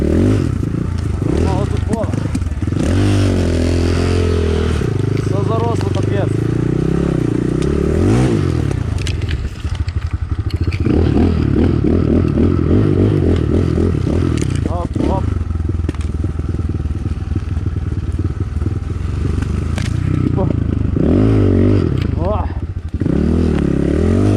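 A BSE 250 enduro motorcycle rides a forest trail, its engine rising and falling in pitch close by, with scraping and crackling from the ground, while someone talks over it much of the time.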